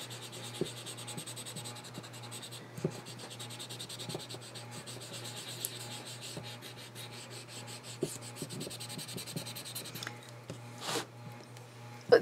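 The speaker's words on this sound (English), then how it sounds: "I just rub it on there and make sure the graphite comes in contact with the rubber" Graphite being rubbed by hand onto a block of carving rubber, a soft, steady close-up scratchy rubbing that continues throughout under a low constant hum, with a few brief sharper scrapes.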